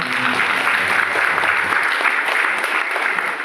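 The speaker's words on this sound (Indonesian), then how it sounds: "Mari kita tepuk tangan." Audience applause at a church celebration for nuns' silver jubilee in Weetebula, a dense burst of clapping from many hands, fairly loud and steady for a few seconds.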